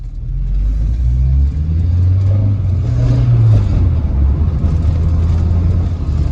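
A VW Rabbit pickup's engine runs steadily while driving, a low, constant rumble with the revs rising and falling slightly, loud and close throughout.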